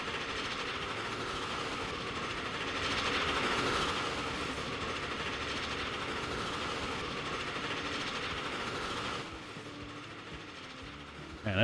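A train locomotive climbs a hill in the game Transport Fever 2, giving a steady, dense rolling rumble with clickety-clack and engine drone that swells briefly, then drops lower near the end.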